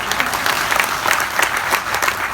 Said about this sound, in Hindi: तो ताली तो बजवा दो सर।